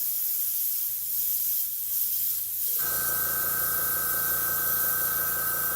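An airbrush spraying cleaner fluid gives a continuous loud airy hiss, which becomes a harsher, tonal, buzzing spray partway through and then holds steady, with no speech.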